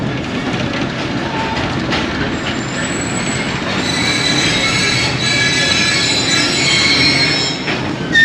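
A train pulls into Narowal Junction railway station on a slow branch line, a loud steady rumble of wheels and carriages with squealing brakes rising high over the last few seconds.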